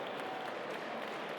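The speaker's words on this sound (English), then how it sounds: "Let's give another round of applause to Pat Tully and my new friend," Audience applause at the China Institute of America centennial gala, a steady dense wash of clapping from a large crowd that fills the room evenly at a moderate level throughout.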